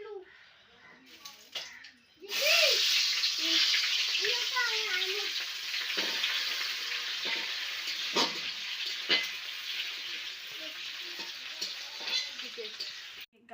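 Cumin paste sizzles steadily in a pan while aloo dum, a potato curry, is being cooked. The loud hiss swells in after a brief pause and holds through the clip, with someone talking over it at first.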